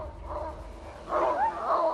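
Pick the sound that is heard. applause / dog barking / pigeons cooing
dog barking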